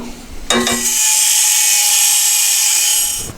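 A power cutting tool slicing the metal sides off a dune buggy's battery box, a loud high-pitched whine that spins up quickly and holds steady for a few seconds before starting to fade, close and alone.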